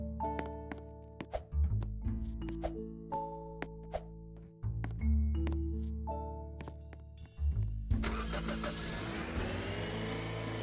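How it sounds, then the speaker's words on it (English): A video game utility truck's engine starts and revs repeatedly through gear changes, with rising whines broken by abrupt shifts. A rougher, noisier driving roar follows near the end, loud and close. "And I drive my truck back over to the wood drop-off."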